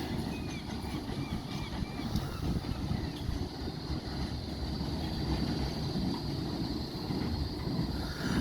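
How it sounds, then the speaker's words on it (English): Blackpool Flexity tram number 18 passing on the Fleetwood to Starr Gate tramway, a broad rumbling roar with faint squealing tones, steady and fairly near, mixed with outdoor wind noise. "And this is our Flexity tram."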